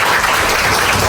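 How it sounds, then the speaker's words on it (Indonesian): A classroom group applauding together, a dense, loud burst of clapping that fills the whole short moment without a break. "Kita berikan aplaus."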